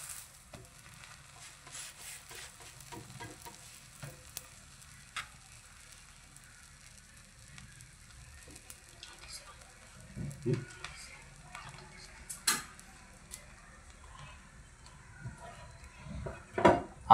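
Pav bread rolls heating in a pan with a little oil give a quiet, steady sizzle with occasional soft clinks and scrapes, and a few louder knocks near the end.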